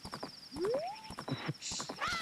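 Hooves of the horse Epona clip-clop in quick rhythm in The Legend of Zelda: Majora's Mask, mixed with a neigh and other game sound effects, fairly faint overall.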